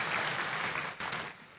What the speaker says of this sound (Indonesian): Kasih tepuk tangan yang meriah untuk Tuhan Yesus.